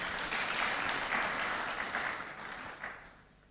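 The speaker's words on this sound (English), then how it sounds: "Let's again also clap for them." An audience at a celebration event for JCRC leadership gives a round of applause. The clapping is full at first, then thins and fades away toward the end.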